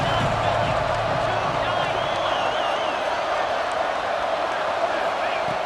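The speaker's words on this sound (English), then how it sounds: "3rd down, and the crowd really getting into it." A stadium crowd in the football video game EA Sports College Football 26 roars in a dense, continuous wash of noise beneath steady play-by-play commentary.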